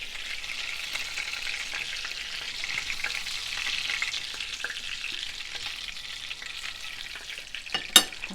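Cutlets sizzle and fry steadily in a pan, a continuous close crackling hiss with small pops throughout and one sharper clatter near the end.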